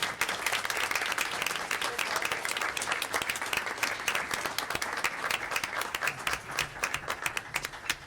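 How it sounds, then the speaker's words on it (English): Dense, sustained applause from a school board meeting audience honoring a junior high symphonic band, many hands clapping continuously and evenly for about eight seconds with a faint murmur of voices beneath. "How about a round of applause for these guys?"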